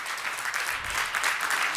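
Sustained clapping from a crowd at a tech product launch event, a continuous even patter of many hands at moderate loudness with no voices over it.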